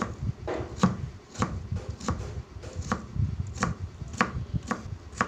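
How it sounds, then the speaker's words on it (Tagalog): Sharp, repeated hammering knocks from nearby construction at a fairly steady pace, moderately distant, over a busy background of low rumble and clatter. "Narinig nyo, mga pukpukan na nagaganap."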